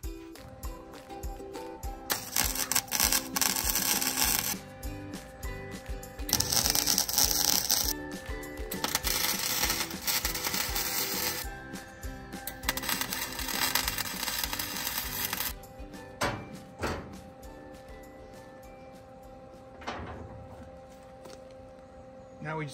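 Tack welding on steel flatbed pieces for an F600 pickup truck bed, heard as several bursts of harsh crackling arc noise separated by pauses, with some clanking and a voice talking in between.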